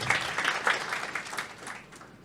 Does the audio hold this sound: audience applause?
yes